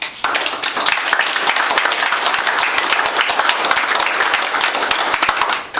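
An audience applauds with dense, steady clapping from many hands, loud and continuous throughout with no voices on top.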